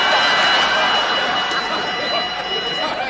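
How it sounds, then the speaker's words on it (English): A burglar alarm rings in a British sitcom scene, a continuous loud metallic clamor sustained throughout with no pauses, heard alone. "Burglar alarm."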